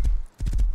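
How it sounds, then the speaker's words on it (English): Horse hooves from riding in the Rust video game, a quick run of close, muffled clip-clop thuds with a brief gap midway, all within under a second. "Just riding my horse, you know?"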